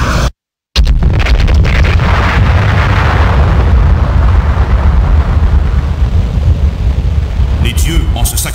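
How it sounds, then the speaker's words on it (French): A huge, sustained explosion rumbles and roars continuously after a brief silent gap, from the intro of the PC game Birthright, loud and thick with low-end boom that slowly thins out. "L'explosion secoua la terre et déchira les montagnes"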